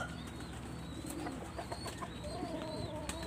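Pigeons coo softly in a loft, several low, rounded calls repeating close by over a faint background murmur.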